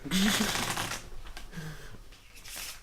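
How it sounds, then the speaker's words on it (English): Playing cards riffled in an inverted ripple shuffle, a rapid close fluttering burst up front, then quieter shuffling handling under intermittent talk. "I've done a fucking inverted ripple shuffle again"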